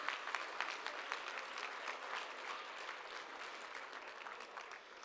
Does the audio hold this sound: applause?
yes